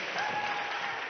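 Brief burst of audience applause at a live seminar, a dense, even wash of clapping heard at moderate distance for about a second.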